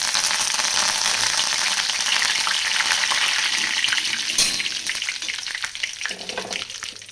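Cumin, mustard seeds and curry leaves crackle and sizzle in hot oil, a dense close spattering hiss that gradually thins and quiets toward the end, with no talk.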